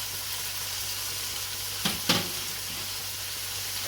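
Onions and pimento peppers sizzling in a pot of Trini lentil stew, a steady close hiss with two brief sharp scrapes or clatters partway through.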